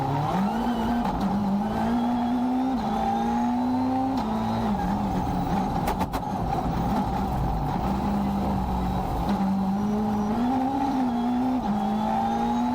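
Inside a rally car speeding along a stage, the engine roars loudly with rising and falling revs through gear changes and a sharp thump midway, continuous and close, with no speech.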